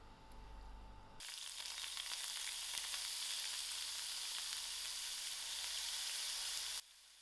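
Onions dropped into about a quarter cup of hot oil break into a sudden loud sizzle. It holds steady and close for several seconds, then cuts off abruptly.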